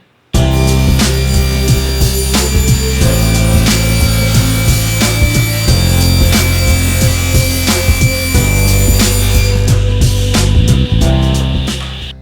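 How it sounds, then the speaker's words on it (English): A table saw rips thin plywood strips for sled runners: a loud continuous whining blade and motor drone with a steady gritty cutting rasp that runs unbroken for the whole stretch, close and without any talking. "I'm going to rip this down real thin so that it can fit inside the little slots on my table saw"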